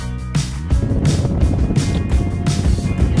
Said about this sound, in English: Walleyes in this part of the country love wind. And today, we're getting some.